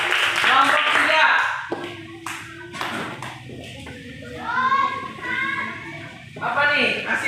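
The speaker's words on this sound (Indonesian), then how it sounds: "tepuk tangan buat kelompok 2" Classroom group clapping for a student group, a short burst of claps mixed with children's voices and a teacher speaking over it, fairly close.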